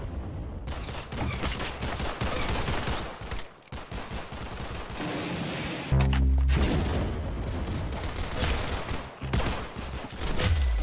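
Gunfire in the Roblox shooter Arsenal: dense, loud bursts of rapid automatic shots and sharp blasts in quick succession, with a deep boom near the middle and more firing continuing to the end.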